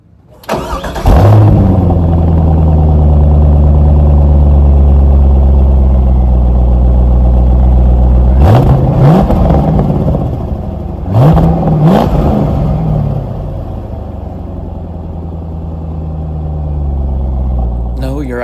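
A 2001 Corvette Z06 race car with traction control off, its engine starting and then revving hard through several sharp accelerations, loud and close, with the engine dropping to a steady drone.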